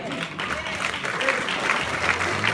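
A crowd at a speaking event in Atlanta breaks into applause, a dense wash of clapping that swells slightly and holds for a few seconds, with voices mixed in.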